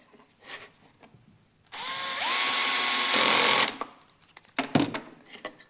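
A drill bores pocket holes through wood using a UJK pocket hole jig, a loud steady whine lasting about two seconds, the pitch rising as it spins up, followed by a few clattering knocks.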